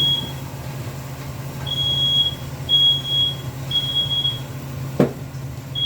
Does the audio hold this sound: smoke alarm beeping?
yes